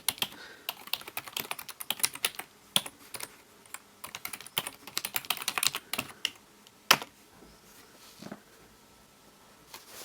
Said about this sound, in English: So I've got this Logitech keyboard. Let's type in the address.